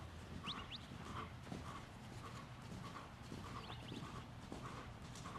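A horse canters in a hunt seat riding arena, its hooves beating a faint, regular rhythm in the distance, with a few bird chirps above it.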